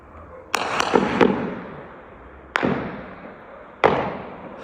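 Sudden gunfire at night comes as several sharp, loud bangs: a quick cluster of three, then two more single reports a second or so apart, each echoing and fading out.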